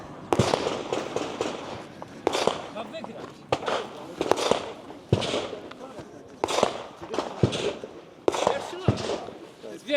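Gunshots on a practical shooting competition stage ring out as loud sharp cracks, fired in quick clusters with short pauses between them and echoing at close range, while a voice talks over them.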